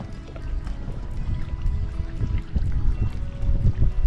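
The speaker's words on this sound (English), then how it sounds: "we decided to paddle on a little further" A kayak paddles through shallow coastal water off Cedar Key, Florida, with a steady close wash and slosh of water that swells slightly as the strokes continue.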